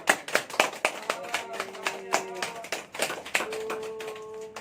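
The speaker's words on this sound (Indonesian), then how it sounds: "Pas cium keningnya tepuk tangan biar kelihatan meriah kita." Scattered hand claps at a church wedding ceremony, irregular and fairly close, with brief tonal sounds and background chatter among the guests.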